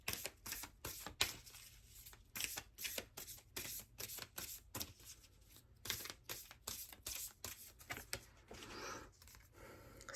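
A deck of tarot cards is shuffled steadily and close by, with rapid, crisp bursts of riffling and slapping in an uneven rhythm and no talking.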